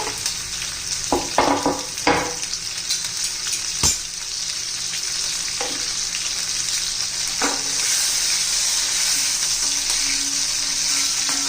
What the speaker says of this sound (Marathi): तेल आपलं आता गरम झालेलं आहे आता हे बारीक चिरलेलं लसूण आणि मिरची घालून घेऊ तेलात